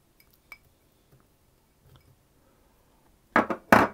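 Almonds, coconut and glace cherries tipped into a mixing bowl for paradise slices: a few faint light clinks and taps, then two loud rattling pours of pieces landing in the bowl.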